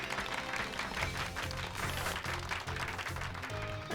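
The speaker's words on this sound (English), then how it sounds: "Give Pikachu a round of applause," Recorded in-game crowd applause in Pokemon Violet honors Pikachu, a steady, fairly quiet patter of many clapping hands over a low music bed, lasting several seconds.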